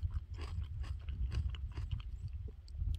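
A pluot with crunchy skin is bitten and chewed close up, giving a string of wet crunches and mouth sounds with no talk.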